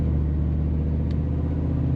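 A Chevrolet Squarebody Suburban tows a load on the road, its engine giving a steady, close low rumble with no change in pace throughout.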